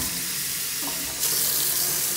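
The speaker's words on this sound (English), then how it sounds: "There is good water pressure from both temperatures and the sink drains correctly." Water gushes from a hot and cold mixer tap into a stainless steel double basin sink, a steady close hiss of flow that swells louder partway through, with no voices.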